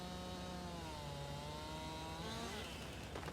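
A chainsaw cuts down a tree in Farming Simulator 22, its engine droning steadily with a buzzing harmonic whine that shifts pitch slightly as it bites into the trunk, faint and continuous with no talk.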